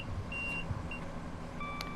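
Intermittent electronic cab alert beeps from a Class 465 electric train cab in the simulator game Train Sim World 3, on the Dartford to Faversham route, sounding as short high tones over a steady low rumble of the train running.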